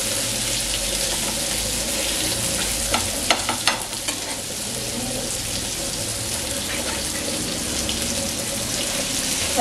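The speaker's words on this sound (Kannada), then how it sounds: "ಫ್ರೈ ಆಗ್ತಾ ಇದೆ." Keema masala sizzles and fries in a pan, a steady loud hiss with occasional stirring scrapes and clatter throughout.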